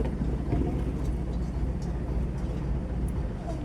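A boat moves through a narrow creek lined with sundari trees, producing a steady, close low rumble with a constant churning wash that holds for the whole stretch.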